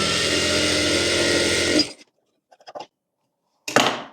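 A sewing machine stitches blouse fabric in a close, continuous mechanical whir that stops abruptly. After a pause come a few soft clicks and then a brief second burst of stitching.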